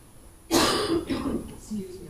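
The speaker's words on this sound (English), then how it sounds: "I'm sorry I keep coughing" A woman clears her throat and gives a short cough, loud and close, during a town hall budget presentation; the burst starts abruptly after near silence.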